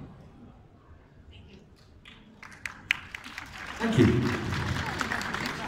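Audience at a comic con panel with actors breaks into clapping, starting as a few scattered claps and swelling into fuller applause, with a voice speaking over the start.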